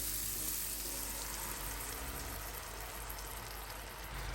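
Mushrooms sizzle in a pan as cream goes in, a close, broad frying hiss that runs steadily and eases slightly toward the end, with no talking.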